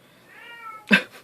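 A single drawn-out cat meow, rising then breaking off, followed by a short louder burst of noise.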